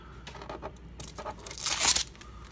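Plastic packaging torn and crinkled while unboxing an Asus VX248 24-inch monitor: a few short rustles, then a louder, sharp rip near the end, close up.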